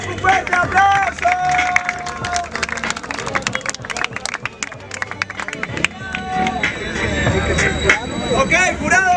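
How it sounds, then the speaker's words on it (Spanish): Crowd at a rap battle clapping and cheering, dense sharp claps mixed with shouts and voices throughout, loud and close, with whistles and chatter rising near the end. "¡Sí, un fuerte aplauso!"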